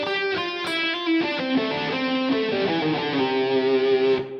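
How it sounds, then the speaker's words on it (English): Electric guitar runs through a King of Tones overdrive emulation on a Fractal VP4, a sequence of picked notes and chords with a smooth, mildly driven tone, ringing out before cutting off at the end. "The King of Tones seems to be a little smoother than the Klon."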